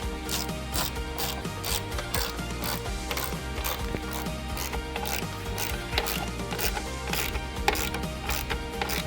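Fast, continuous clicking of a ratchet tightening a hood lift bracket on a Jeep Wrangler 392, close and steady over a low mechanical background.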